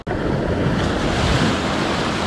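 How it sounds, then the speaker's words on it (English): Ocean surf breaks steadily on a beach where two-foot waves roll in, a continuous loud wash with wind rumbling across the microphone and no voices. "there's some bigger sets coming through every now and then that are 2 foot waves"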